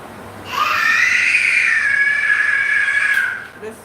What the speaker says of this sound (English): She just screaming because she just screaming.